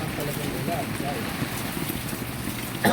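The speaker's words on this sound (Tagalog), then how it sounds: "Nalakas talagang ulan, guys." Heavy rain pours steadily down in a broad, even hiss with constant spattering, continuing unbroken for the whole stretch with no voices over it.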